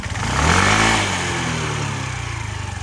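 A Suzuki Address V125 S scooter engine runs close by, revving up briefly then settling into a steady, even idle with a rapid putter.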